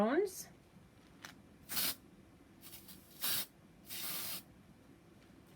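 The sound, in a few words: spraying food color onto isomalt cake topper pieces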